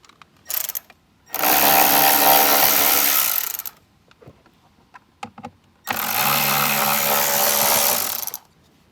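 A power driver backs two screws out of a 2024+ Jeep Wrangler panel in two long, loud, steady whirring runs, with brief clicks and handling knocks between them.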